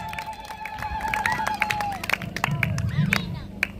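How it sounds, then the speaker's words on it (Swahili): Clapping from a crowd at an outdoor gospel meeting in Kongwa, with sharp scattered claps mixed into crowd babble and a voice, building louder toward the end. "Piga Yesu makofi mengi kama unaelewa."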